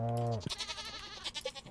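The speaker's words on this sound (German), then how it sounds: "Überall die Ziege hier." Goats bleating in Stardew Valley, one long quavering bleat followed by shorter wavering calls, close and clear with no talking.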